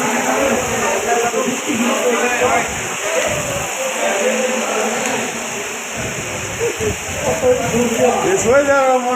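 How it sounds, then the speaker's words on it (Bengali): Heavy rain in Dammam, Saudi Arabia, makes a loud, steady, broadband wash throughout, with a constant high-pitched hiss layered on top. Voices talk intermittently over the downpour. "প্রচুর বৃষ্টি তাপমান প্রচুর বৃষ্টি"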